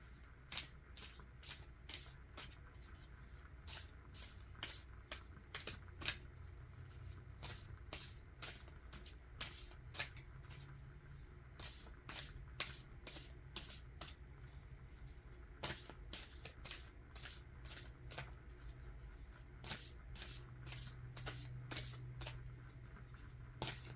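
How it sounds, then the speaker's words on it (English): Flower oracle cards are shuffled by hand in a quiet room, a steady run of soft, crisp riffling flicks repeating close up over a faint background hum, with no talking. "Let's go ahead and pick a flower card."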